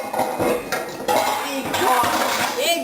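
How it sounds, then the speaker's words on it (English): A big cooking pot clanks and rattles against metal in a kitchen while brownies are being made, with loud close knocks and scraping clatter in several bursts over about three seconds. "Very loud big pot"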